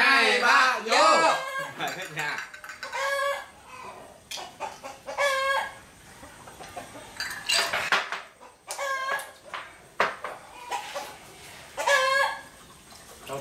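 Chickens clucking in bursts at close range amid people talking in Vietnamese, with clattering noises between the calls.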